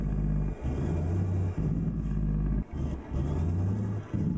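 A low, steady truck engine drone in American Truck Simulator rumbles on, broken by brief dips every second or so as it shifts, with no talking.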